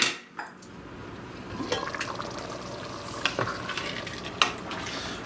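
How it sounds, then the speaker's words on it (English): Beans for pasta e fagioli cooking in a pot, with a steady low bubbling and simmering texture and a few sharp stirring clinks and scrapes against the pot, heard close with no voices. "we're gonna cook these, I don't know, 5-10 minutes until they're nice and piping hot"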